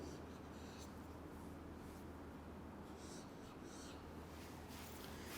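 Chalk or marker scratching on a board during a statistics lecture, steady continuous strokes with short bursts of scraping, faint over a constant low room hum.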